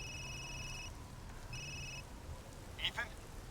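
Phone ringing in the video game Resident Evil Village, two electronic double-tone rings in a row, moderately loud over quiet background, followed by a short clattering sound.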